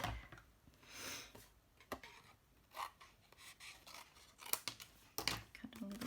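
Scissors cutting a piece off, a faint sequence of crisp snips and rubbing scrapes at an uneven pace, close by and quiet, with no talking.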